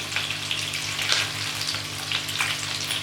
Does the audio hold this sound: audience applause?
no